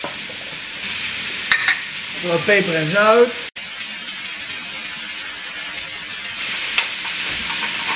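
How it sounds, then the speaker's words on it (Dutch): Vegetables fry on high heat in a pan with a steady close sizzle and hiss, stirred now and then, while a person talks briefly over it. "Hoog vuur. Goed aanfruiten."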